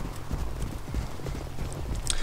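Footsteps in the video game Borderlands 2 come as a steady, heavy clopping rhythm of thudding steps, fairly close and continuous, under a low background rumble.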